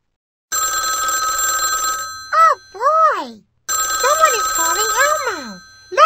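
A cartoonish big telephone from a Sesame Street children's game rings loudly in two long electronic bursts, each followed by a playful voice speaking in a sing-song way.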